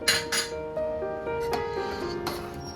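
A metal lid clinks onto a pot of mango curry as it cooks. Two quick rattling clanks come first, then a ringing metallic hum and a few lighter taps. The sounds are close, with no talking.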